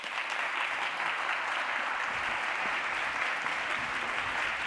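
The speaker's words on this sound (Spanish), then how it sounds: "Un aplauso" An audience applauds speaker Silvia Berenguer after her talk at ENAP 2015. The clapping is steady and moderately loud, with many hands blending into an even wash throughout.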